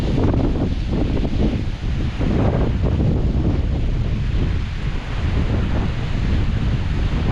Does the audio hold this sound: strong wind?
yes